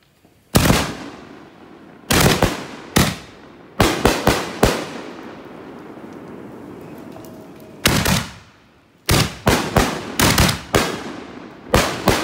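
Pyroland firework shells, fused up as bangers, explode in a rapid series of loud, sharp reports, some clustered tightly together, with crackling decay tails and short gaps between bursts.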